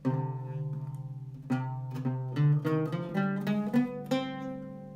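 A sustained melodic instrument plays the Maqam Nihawand scale on C, notes rising stepwise one after another with a steady drone underneath, clear and close, no voices.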